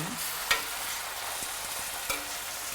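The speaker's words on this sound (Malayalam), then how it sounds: "ഇതും കൂടെ ഒന്ന് ഫ്രൈ ആവണം ചെറുതായിട്ട് ആ എണ്ണയിൽ" Fleshy tuna pieces frying lightly in oil, a continuous close sizzle with a couple of sharper pops or stirring knocks along the way.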